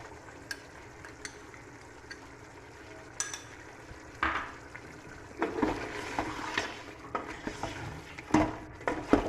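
Intermittent sizzling and stirring of ginger and garlic in a hot pan, with scraping clatters of a utensil growing busier toward the end; no talking.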